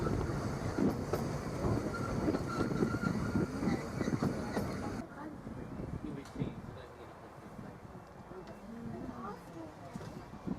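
A small narrow-gauge Vale of Rheidol Railway train rumbles along from inside the carriage, its wheels giving a steady clattering roll with occasional clicks as the track noise softens partway through.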